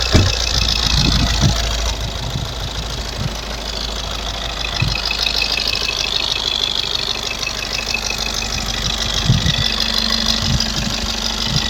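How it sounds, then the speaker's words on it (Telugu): A 2020 Maruti Ertiga VDI 1.5 diesel engine idles steadily nearby, a rough, even rumble with a faint knocking rhythm running throughout. "ఇంజన్ సౌండ్ కూడా చాలా క్లారిటీగా ఉంది"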